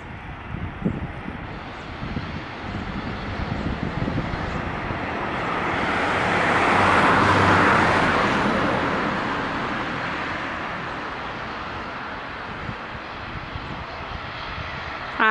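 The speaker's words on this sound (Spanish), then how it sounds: "Despegue y aterriza un avión del aeropuerto de Málaga." An airplane landing at Málaga airport produces a distant jet roar that swells gradually to a loud peak at mid-clip, then fades back over outdoor traffic and wind noise.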